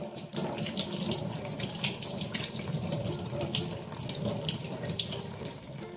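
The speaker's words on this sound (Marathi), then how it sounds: "आता मी तिला स्वच्छ धुवून तिची सालं काढून घेणार आहे." A large raw green mango washed under a running kitchen tap, with a steady, close stream of water splashing and spattering into the sink as the fruit is rubbed clean.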